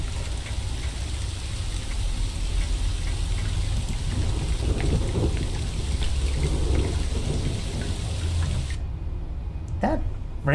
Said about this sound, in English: That rain is super loud.